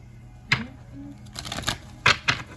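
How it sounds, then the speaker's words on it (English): Louise Hay Power Thought cards are handled and shuffled in a few quick papery riffles and flicks over a quiet room, with brief murmured speech nearby. "We'll go ahead and get some Louise Hay's Power Thought cards for the full moon here."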